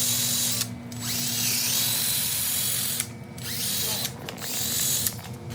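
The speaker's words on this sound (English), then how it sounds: "if you take the wire wheel right here, you can go and clean that rust out." A wire wheel spun by a drill scrubs rust off front brake parts of a 2016–2021 Honda Civic, a loud continuous whirring grind running in long bursts with three brief pauses between passes.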